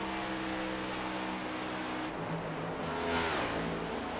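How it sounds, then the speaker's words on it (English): A pack of race cars in iRacing at Auto Club Speedway roars together, layered engine drones sustained and shifting in pitch as they pass, with a rising surge of revving near the end, no voices. "there you see the snarling pack of cars behind him"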